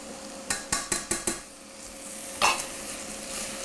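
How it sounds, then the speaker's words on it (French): A spoon knocks several times in quick succession against a pan of vegetables sweating in fat, followed by a scrape of stirring and a soft, low sizzle. "Je remue. Et on va faire suer les légumes pendant un petit 5 minutes"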